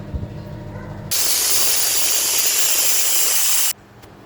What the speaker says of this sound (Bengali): সিটি দিয়ে নেব তিনটি